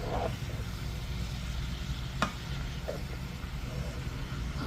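Cabbage fries in a pan for Southern fried cabbage, giving a steady moderate sizzle with an occasional scrape of stirring, close up and without voices.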